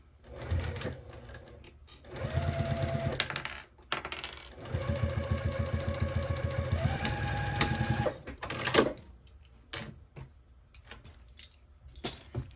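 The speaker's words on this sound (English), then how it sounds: "I'm sewing over my little key ring thing again, like again back stitching just to reinforce it" A sewing machine back-stitches over fabric, a key ring tab and a zipper in several bursts of rapid, steady stitching, pausing between runs, with some clinking handling noises near the end.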